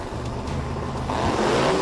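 Drag racing car at the Lights Out 8 event smoking its tires, a loud engine roar that rises and strains as the tires spin, with a climbing whine building in the second half.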